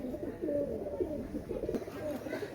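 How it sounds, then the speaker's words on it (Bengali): Chinese teddy pigeons coo in soft, repeated low calls, nearby but quiet, continuing steadily throughout with a faint background hum. "এটা হচ্ছে চিনাটেডি আপনারা জানেন চিনাটেডি কবুতর অনেক ভালো কবুতর"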